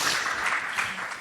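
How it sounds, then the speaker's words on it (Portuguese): A brief, moderately faint burst of audience applause at an evening talk event on bureaucracy and mental health, with dense, even clapping as a speaker is welcomed on stage. "Uma salva de palmas muito grande"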